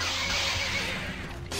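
A horse in the video game Skyrim lets out a neigh over a steady wash of game ambience and low music, the whinny fairly close and moderately loud for a second or so.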